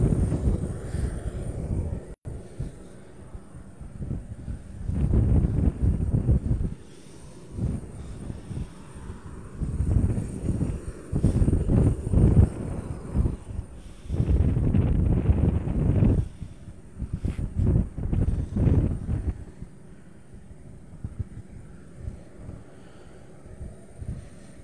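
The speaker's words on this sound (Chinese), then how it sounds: "我们现在可以看到固定翼上的这个螺旋桨已经开始发动" A propeller on a fixed-wing aircraft starts up outdoors, heard as a low droning engine rumble that rises and falls in uneven surges, mixed with gusty wind noise on the microphone.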